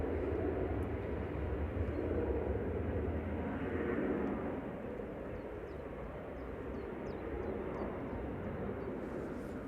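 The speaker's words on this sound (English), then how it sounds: "EasyJet departing to Antalya, GUZME, with flight 2141." An EasyJet airliner departing Manchester Airport, a low rumbling jet roar that swells early, then eases slightly and continues steadily at moderate distance.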